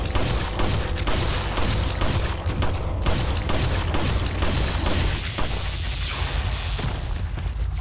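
Pistol shots ring out repeatedly in Resident Evil 4, close and punchy, mixed into a constant loud rumble of booms and combat noise.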